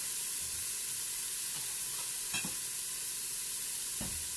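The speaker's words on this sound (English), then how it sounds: "These are diced mushrooms. Diced button mushrooms. We're not putting anything on them. We're just getting them nicely browned." Diced button mushrooms brown in a dry pan with a steady, fairly quiet hiss, broken now and then by faint utensil knocks and stirring.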